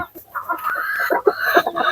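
Light Sussex hens, a purebred egg-laying breed, cluck in short repeated bursts, close and clear, with no one talking over them.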